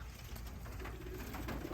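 Young pigeons gathered in a loft aviary give soft, low cooing that blends into a steady, murmuring background.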